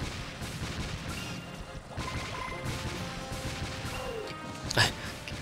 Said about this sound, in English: I accidentally shot the guy who ran in front of me